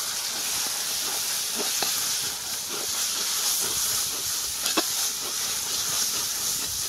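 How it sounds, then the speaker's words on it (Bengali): Ground spices (cumin, coriander, Kashmiri chilli and turmeric) frying for a goat mutton curry give a steady hiss in a pan, broken by a few scattered scrapes and clinks as the masala is stirred. "এবার ভালো করে মশলাটাকে কষতে থাকবো।"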